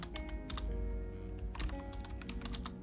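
Typing on a computer keyboard while entering a database name, quick clusters of clicking keystrokes in short bursts with brief pauses, close and clear over a faint electronic hum, with no talking.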